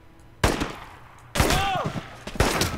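Gunfire from a pistol in the World War II shooter Enemy Front, with three separate loud, sharp shot bursts spaced about a second apart, each trailing off into a short echo.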